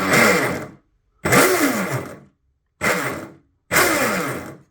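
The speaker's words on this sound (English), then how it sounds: "Let's go ahead and test the throttle." The electric motor of a used Pro Boat Sonicwake 36 RC boat is throttled up in four short bursts, each a loud close whine rising in pitch then cutting out, with brief silences between.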